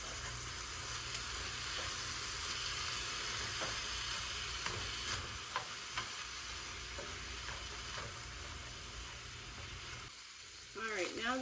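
Ground beef and onions cooking together in a pan for a cheeseburger casserole, giving a continuous soft sizzle with occasional pops and light stirring scrapes, fairly quiet, with a brief clatter near the end.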